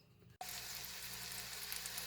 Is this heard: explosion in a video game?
no